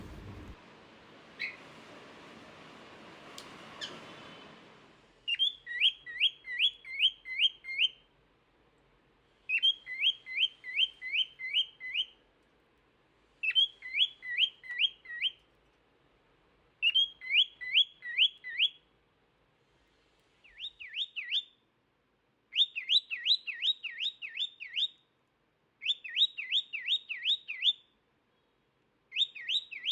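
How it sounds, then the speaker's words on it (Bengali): Pet birds kept indoors call in repeated bursts of rapid, high, trilling chirps, about nine separate phrases with short pauses between them, clear and close with no other sounds. "দেখুন পাখিগুলো কিভাবে ডাকতেছে"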